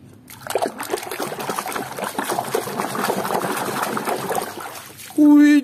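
Plastic animal toys are swished and rinsed in a basin of clean water, producing continuous trickling, sloshing and light splashes, with a short tonal beep near the end.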